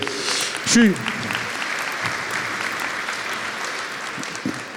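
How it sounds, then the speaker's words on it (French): Audience and children applauding at the inauguration of a transport company, steady moderate clapping from a crowd with a voice speaking over it and a brief whistle-like tone near the start. "Vous pouvez les applaudir aussi, les enfants"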